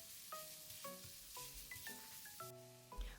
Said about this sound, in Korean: 이번엔 파와 마늘 그리고 생강을 먼저 볶다가 소고기 다진 육을 넣었어요.